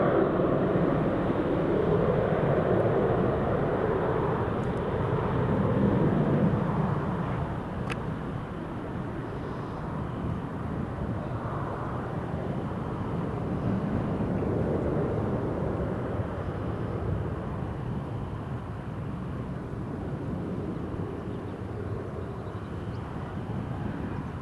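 A TUI airliner passes at Newcastle International Airport with a broad, steady jet roar that swells and slowly fades while staying loud throughout, with no talk.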